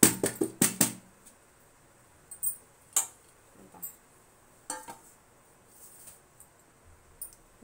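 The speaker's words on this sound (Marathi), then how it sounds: "आता याच्यावरती मी ताट ठेवते आणि पलटी करून घेते" A metal plate set onto a dhokla tray and the pair flipped over, giving a quick cluster of sharp metallic clinks and taps followed by a few sparse, quieter knocks.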